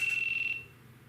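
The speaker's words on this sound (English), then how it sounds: "got beeping from somewhere, don't know what" A steady high-pitched electronic alarm beep rings out somewhere in a room, holding for about half a second before cutting off into quiet room tone.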